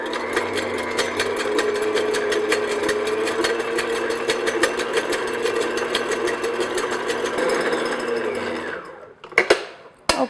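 Electric hand mixer beating egg whites with cream of tartar at medium-low speed for a chocolate pavlova, a loud steady close whir with rapid rhythmic ticking that runs for about nine seconds before abruptly stopping with a few clunks.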